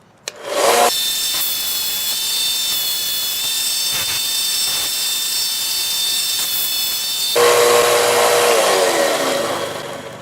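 Sanding epoxy and scrap brass at 600 grit: a steady, close abrasive rasping runs almost unbroken for about ten seconds, growing a little louder and harsher near the end.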